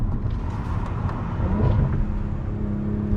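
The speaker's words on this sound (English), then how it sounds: "Listen to that exhaust" A 2020s Audi B9.5 RS5 with an Integrated Engineering Stage 1 tune sends out a deep, rumbling exhaust note. It stays close and loud and swells slightly as it revs, with no talking over it.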